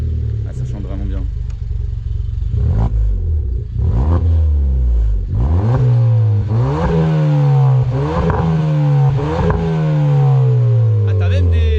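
A Suzuki Swift Sport engine revs hard and repeatedly, each rise in pitch followed by a drop, loud and close, with people talking over it.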